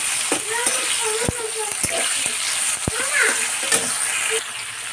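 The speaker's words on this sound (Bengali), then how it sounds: "এর মধ্যে আদা, কাঁচা লঙ্কা, টমেটো আর জিরে একসঙ্গে দিয়ে দিয়েছি।" Ginger, green chilli, tomato and cumin fry in a pan with a steady, close sizzle, while a utensil stirs and taps against the pan every so often.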